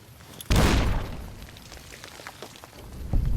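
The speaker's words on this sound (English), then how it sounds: "Yep, love the huge explosion there." Huge explosion in Fallout: New Vegas, a sudden loud boom that bursts in and rolls off into a rumbling, crackling tail, followed by smaller debris thuds.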